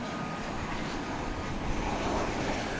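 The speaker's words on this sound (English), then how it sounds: "yonder goes the big A350 1000 off to the east side of the airport for takeoff back to Doha" An Airbus A350-1000 jet taxis for takeoff at DFW Airport at night, a steady, loud engine roar and whine holding evenly throughout with no voices.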